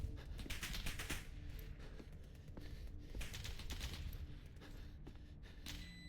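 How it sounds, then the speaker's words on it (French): Gunfire in a Roblox video game, a dense rattle of rapid shots in several bursts aimed at the player, fairly quiet overall and without talk. "Il y a qui me tire dessus là?"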